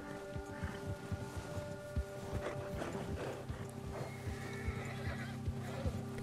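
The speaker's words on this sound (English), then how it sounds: "the horses going crazy" Horses in the Red Dead Redemption 2 video game whinny loudly and repeatedly over a rhythmic clip-clop of hooves, with a low rumbling background throughout.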